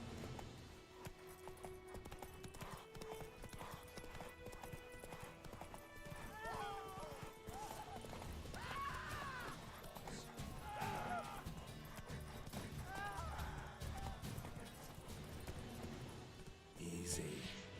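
Horse hooves clip-clopping along a road in The Witcher 3, a continuous rhythmic beat beneath steady game music and ambience, with a neigh-like call and voices talking partway through.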